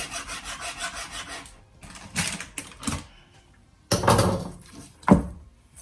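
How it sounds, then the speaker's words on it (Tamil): A knife slices raw chicken skin on a wooden board: irregular rasping, rubbing cuts in short bursts with pauses, close and fairly loud, no talk. "நாங்க எக்ஸ்ட்ரா அந்த மிஞ்சி தொங்குற தோள்களை ஃபர்ஸ்ட் கட் பண்ணி எடுத்துடலாம்."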